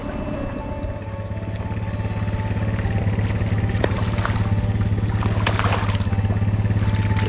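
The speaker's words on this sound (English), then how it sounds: "Ted's bringing the quad down. I can hear it." A quad bike engine rumbles steadily at close range and grows slightly louder as it is driven down toward a boat trailer, with faint trickling and clinking noises over the hum.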